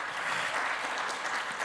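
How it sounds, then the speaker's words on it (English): Audience at a financial CEO forum clapping in a steady wash of applause throughout, moderately loud and fairly close, with no talking over it. "Let's give a round of applause to Tony."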